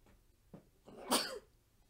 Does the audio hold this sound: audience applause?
no